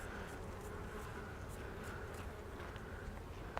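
Honey bees on a hive frame give off a faint, continuous buzzing as they are brushed off on a sunny day during a honey harvest.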